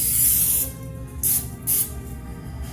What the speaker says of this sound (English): She's just using cooking spray,